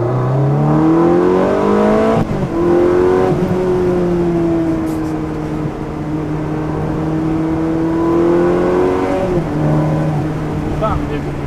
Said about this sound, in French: le passage des rapports et le petit coup de gaz